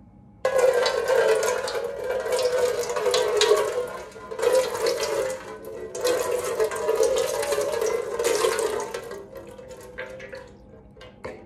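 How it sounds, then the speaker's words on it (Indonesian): Water poured from a basin splashes onto a face in two long bursts, a steady close rushing spill broken by a brief pause, then fading into drips and trickles. "Aku langsung siram aja ya."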